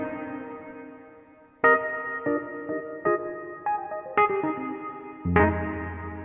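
Electric piano chords on a Universal Audio Electra 88 ring out one after another, each note trailing into a soft, roomy ambience reverb tail that lingers between strikes.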